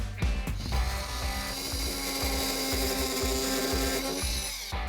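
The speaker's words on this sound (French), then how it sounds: "couper ce clou a été un vrai jeu d'enfant grâce à ça, notre surprenant Rénovator" A Renovator oscillating multi-tool cuts through a nail with a loud, steady buzzing whine and gritty metal rasp, running continuously for several seconds up close with no talk.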